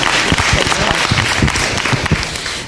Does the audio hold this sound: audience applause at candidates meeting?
yes